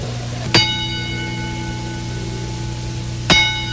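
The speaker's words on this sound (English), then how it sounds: "We tolled the bell 10 times out of respect to the late Brian Pillman." A bell tolls at a wrestling memorial tribute, with two separate ringing strikes about three seconds apart. Each has a shimmering metallic decay over a steady background hum and murmur.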